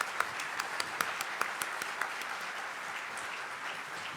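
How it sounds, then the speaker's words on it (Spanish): An audience applauds inspiring women at an International Women's Day panel, a steady crowd of clapping with a few sharper claps standing out near the front, continuing for several seconds without talk. "Un aplauso para esas mujeres que inspiran."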